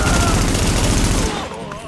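Heavy gunfire in the video game Tom Clancy's The Division, a dense, loud barrage of rapid automatic shots that stops abruptly after over a second, leaving a quieter tail.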